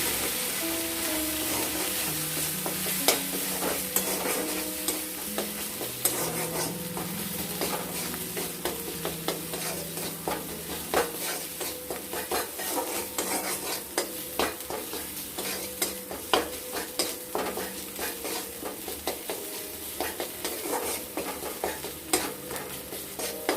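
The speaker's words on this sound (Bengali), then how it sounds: "আর স্বাদ মতো লবণ দিয়ে দিলাম, দিয়ে এটাকে ভালো মতো করে কষবো।" Banana blossom curry stir-fried in a pan after salt and ground spices go in, with a steady sizzle and repeated spatula scrapes and clinks against the pan throughout, close and continuous, with faint background tones.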